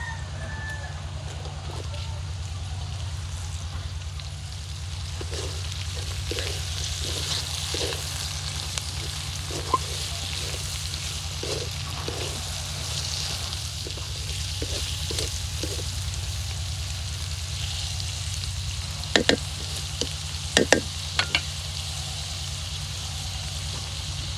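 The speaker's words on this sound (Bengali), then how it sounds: "মশলাটা ভাজা ভাজা হয়ে আসলে এটা আমি দিয়ে দিব কেটে রাখা আলু আর গাজর" Potatoes and carrots frying with dry chili powder and chopped ginger in a pan for rice noodles, a steady sizzle with a few sharp stirring clicks; a rooster and clucking hens can be heard faintly in the background.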